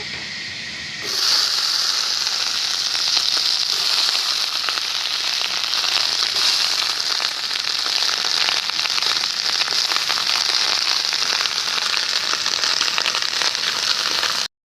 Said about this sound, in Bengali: একটু হালকা করে তেল দিয়ে নেবো আবার পেঁয়াজকালিগুলোকে একটু ভেজে নেব